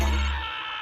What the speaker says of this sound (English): he has changed his contact ringtone for Stolas from this